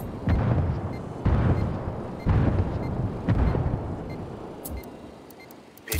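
Indirect artillery fire in the video game Ghost Recon, with four heavy booming blasts about a second apart, each leaving a rumbling tail before the barrage fades out.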